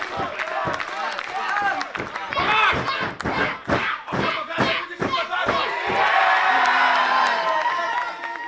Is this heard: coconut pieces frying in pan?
no